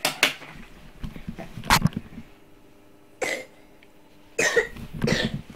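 Several sharp coughs from a child, spaced apart with quiet gaps between them, close to the microphone and fairly loud.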